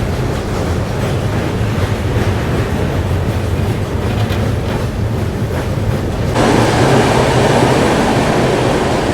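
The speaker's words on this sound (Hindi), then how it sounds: "वहाँ देखो सामने से एक और ट्रेन कोई पास हो रही है ब्रिज के ऊपर से" A train rumbles continuously along the railway with a broad, roaring rush, close and loud, the noise swelling suddenly near the end as it passes by on a bridge.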